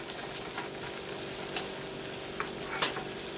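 Peppers sauté in a hot pan with a steady, soft sizzle, punctuated by a few brief clicks and scrapes of stirring near the end.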